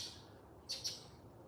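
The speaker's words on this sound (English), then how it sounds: "we've got loud birds this morning" Birds chirp outside in the morning, two short bright tweets in quick succession over a faint background hum, distant and quiet with no talk.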